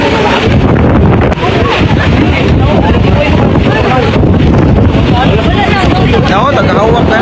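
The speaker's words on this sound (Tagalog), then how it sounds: "Do ni hangin na pud." Strong typhoon wind in Cebu buffets the microphone in loud, roaring gusts, with a low rumble underneath and voices talking through it.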